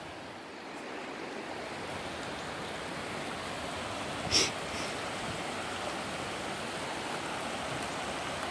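A river flowing past a rocky fishing spot, a broad steady rushing wash of water that stays even throughout, with one brief sharp click midway and no voices.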